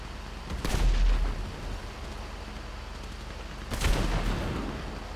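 Two heavy booming tank shots in Grand Theft Auto V, a few seconds apart, each a loud low blast with a rolling tail over a continuous hissing background.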